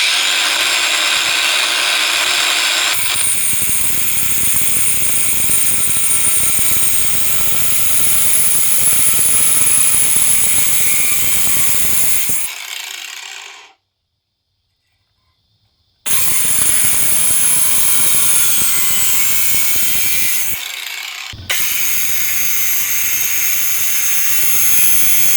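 Ryobi multi tool grinding down a key blade thin enough to fit a keyhole, a loud continuous high whine that cuts out for a couple of seconds, then resumes steadily with another brief gap.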